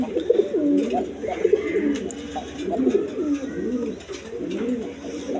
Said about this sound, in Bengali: এখানে এক পেয়ার বোম্বাই আছে, ইন্ডিয়ান বোম্বাই। দেখেন ডাকা ডাকতেছে